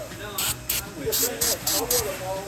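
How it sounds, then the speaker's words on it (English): Brake cleaner hisses from an aerosol can onto the differential of a BMW X3 in six short, sharp bursts, close to the microphone, with a voice talking faintly underneath. "we're gonna clean this off with a brake cleaner"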